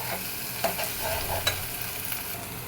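Fish pieces fry in a pan with turmeric, giving a steady, close, dense sizzle throughout, broken by a few light scraping stirs and no talk.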